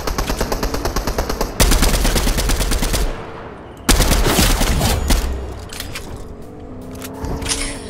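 Rapid automatic gunfire rattles loudly in a shooting video game, two long bursts separated by a short pause, followed by fainter mechanical and vehicle-like noises.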